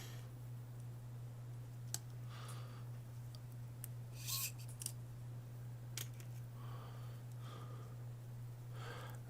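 Small screw being driven into a Nintendo Joy-Con controller, faint scattered clicks and scratchy scraping over a steady low hum.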